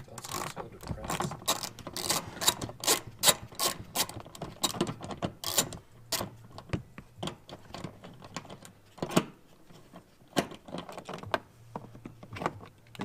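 A hand ratchet backs out 10mm bolts holding the cargo hooks in a Subaru Impreza, with rapid close clicking bursts and pauses between them, plus some handling clatter.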